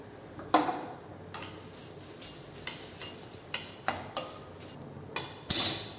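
A spatula scrapes and taps repeatedly against a pan as curry leaves dry roast, with a steady run of close clinks and scratches in an irregular rhythm and no talking.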